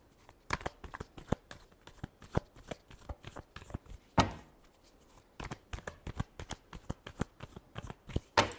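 Tarot cards being shuffled by hand, a series of close, crisp riffling and slapping bursts in an uneven rhythm, quiet between shuffles, no talking.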